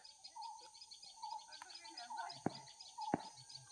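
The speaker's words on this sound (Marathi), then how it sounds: "एका बाजूला चिमण्यांचा आवाज येतोय चिव चिव चिव चिव" Sparrows chirp and tweet repeatedly in the background, quick high notes over a soft ambience, with a couple of sharp knocks.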